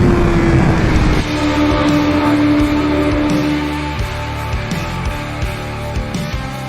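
A 2021 BMW M1000RR superbike engine drones loudly on a racetrack, shifting pitch as revs fall and rise through gears, with a rider's voice occasionally over the mechanical roar.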